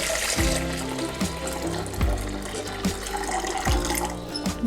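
Water running and splashing into a kitchen mixer grinder jar, a steady broadband rush with repeated low thumps and clatters at regular intervals, close and fairly loud, with no talk.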